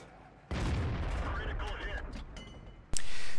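Tank gunfire in the World of Tanks video game with an AMX ELC bis on the Sand River map: a heavy cannon blast followed by a long rumbling roar, then a second sharp shot, loud and close, under game noise.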